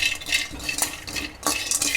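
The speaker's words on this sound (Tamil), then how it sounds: "இப்போ நம்ம முந்திரியை வறுத்துக்கலாம்" Cashews roasting in a pan while being stirred, with uneven scraping and clinking of a metal spoon against the pan over a soft sizzle, close up.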